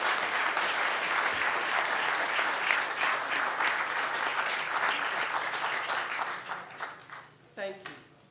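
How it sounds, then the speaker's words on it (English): A crowd applauds steadily for several seconds, dense clapping that gradually thins and fades toward the end. "give them one more round of applause"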